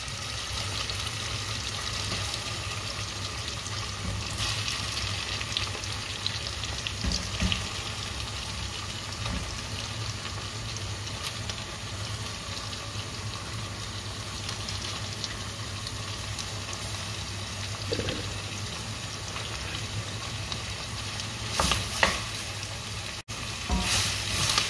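Ground meat for chili con carne sizzles and crackles steadily in a hot pan, a constant fizzing hiss with occasional spatters and a few stirring scrapes.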